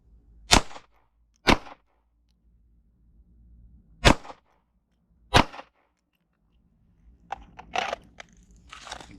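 Handgun shots are fired on a Massachusetts law enforcement qualification range. Four sharp, loud bangs come singly with pauses between them, followed by fainter clattering and handling noises near the end.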